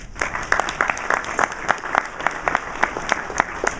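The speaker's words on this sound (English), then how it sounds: "So give yourself a round of applause." Applause from a conference keynote audience at Magento Imagine, with distinct individual claps standing out crisply against a lighter background of clapping throughout.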